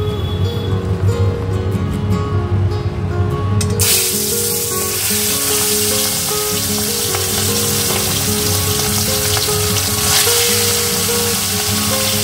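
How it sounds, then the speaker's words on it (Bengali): Rice boiling in a pot gives a loud, close, steady bubbling hiss, growing denser and fuller after the first few seconds and continuing without a break. "আর এখানে ভাত ফুটছে।"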